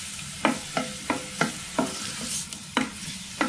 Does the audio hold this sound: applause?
no